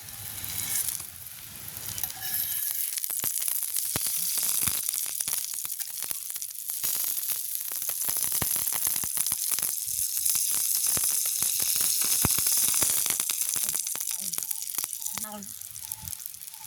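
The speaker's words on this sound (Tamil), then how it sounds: "எண்ணெய் தோசை வந்து நல்லா இருக்கும் சாப்பிட எண்ணெய் தோசை நல்லா இருக்கும் தானே எண்ணெயில் பொறி பட்டு வரும்" An oil dosa fries on a hot pan, giving a bright, crackling sizzle that runs steadily throughout with sharp spitting pops, while someone speaks over it at times.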